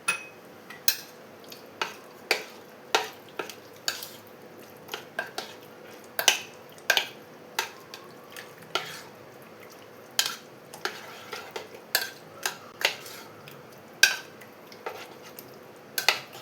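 Marinated chicken is mixed with a beaten egg and spices in a bowl, a spoon clinking and tapping against the sides in a steady, irregular series of sharp, fairly quiet knocks with no talking.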